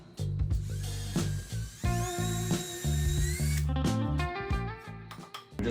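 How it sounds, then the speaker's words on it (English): A power drill pre-drills holes in the wooden front and back plates of a shelf before wood screws go in, giving a close, loud whine that climbs in pitch, holds steady, then drops off with a few short bursts. "I'm just going to be putting these wood screws into the front and back plates, just pre-drilling it."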